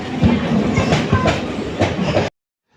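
A moving train rumbles steadily with rhythmic clickety-clack of wheels over rail joints, heard close from inside the carriage before cutting off abruptly.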